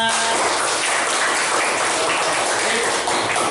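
Schoolchildren in a classroom clap their hands together, a dense, loud, steady patter of claps up close throughout, with no voice standing out.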